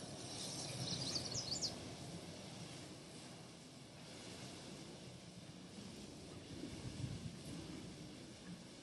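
A steady, even hiss of water from a garden hose nozzle on flat spray mode, fairly faint, running without a break the whole time.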